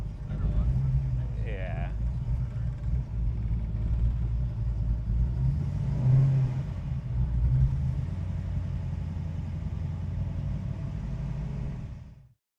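A 1970 Dodge Charger with a 426 Gen 3 HEMI engine rolls in with a steady, deep low rumble that holds throughout, a brief voice speaking over it near the start.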